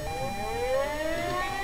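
A fire station siren in the video game Emergency 4 wails, its tone sweeping steadily upward, loud and continuous.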